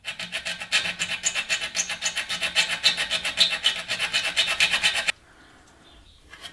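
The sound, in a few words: hand file filing amplifier chassis down to a scribed line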